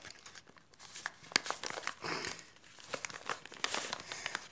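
Paper is folded and creased by hand into an origami Recusant-class star dreadnought. It gives close, irregular crinkling and crumpling with a few sharper crackles, moderately loud, with no talking.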